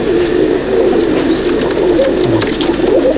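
Several Madrasi pigeons croon in a Howrah loft, their soft, rolling coos overlapping without pause, with faint rustling and a few light chirps mixed in nearby.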